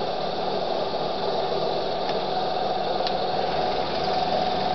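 A vacuum pump runs steadily on a hydrogen-producing cell setup, giving a continuous mechanical hum and hiss at even level throughout, with no voices.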